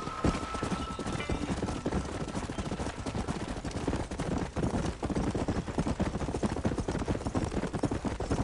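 Horse hooves clip-clop steadily while riding in the Red Dead Redemption video game, a dense rhythmic trot under a busy game mix with bursts of gunfire-like noise throughout.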